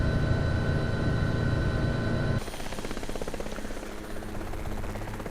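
A state patrol law-enforcement helicopter in the FSX flight simulator drones with a loud, steady rotor and engine hum that shifts to a rougher, choppier tone partway through.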